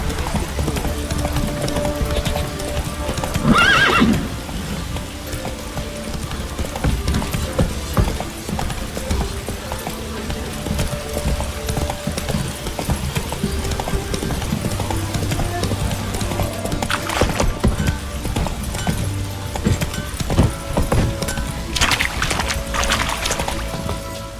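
Horse hooves clip-clop at a steady gallop in The Witcher 3: Wild Hunt, with a brief neigh near the start amid game ambience and occasional mechanical clatter.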